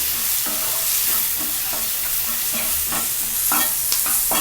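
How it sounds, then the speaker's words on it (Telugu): Green peas stirred into Maggi masala noodles frying in a pan, with a steady sizzle and repeated scraping spoon strokes at a close, even rhythm. "ఈ గ్రీన్ పీస్ కూడా వేసేసి ఒకసారి కలియబెట్టండి"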